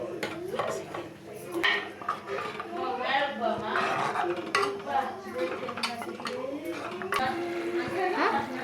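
Chicken being mixed in a clay pot, with repeated scraping, clinks and stirring knocks from a utensil close by while a person talks over it.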